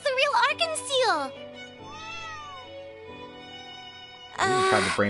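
A cat meows several times in Trails into Reverie, short bright cries near the start and end with a longer, softer tonal call between, heard alongside game music.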